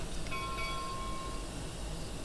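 A train passes in the video game Red Dead Redemption, a dense, loud rumble of wheels and cars with a brief tonal whistle-like note partway through, and no talking.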